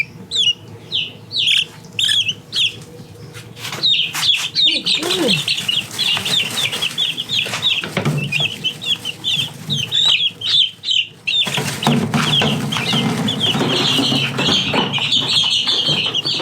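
Baby chicks in a chicken tractor clucking and cheeping nearby, with a burst of wing flapping and rustling partway through; busy chirps fill most of the stretch.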